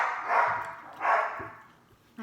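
An indoor dog gives two loud, separate barks about a second apart, followed by a quieter sharp sound at the very end.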